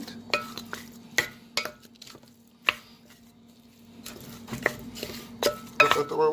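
Spoon or utensil stirring and knocking against a bowl while mixing garlic butter chicken wings, with irregular clinks and scraping taps spaced unevenly, busier toward the end, close and fairly quiet.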